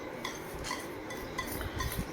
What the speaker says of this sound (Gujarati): ડુંગળી નાખી અને મિક્સ કરી દઈએ.